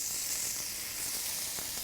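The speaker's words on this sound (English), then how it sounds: "Who won't love this sizzling sound?" Paneer tikka skewers sizzle in hot ghee, giving a short, steady, fairly faint hiss of frying with no voices over it.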